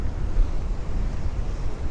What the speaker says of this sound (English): Whoa, it is pretty stormy here tonight in Blackpool.